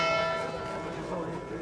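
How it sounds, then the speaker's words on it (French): Church bells ring with a sustained, layered metallic clang that fills the air, resonant tones overlapping throughout. "il me reste l'église et les cloches"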